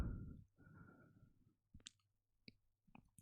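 Several sharp, isolated mouse clicks in a quiet room while selecting a track channel on the mixer in Acid Pro 11, preceded by a brief low rustle.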